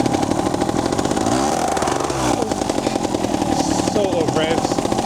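Trials motorcycle engine revving in first gear on a rooty woodland trail, a close, rough, buzzing two-stroke drone with short throttle blips and clattering, ridden continuously with faint voices underneath.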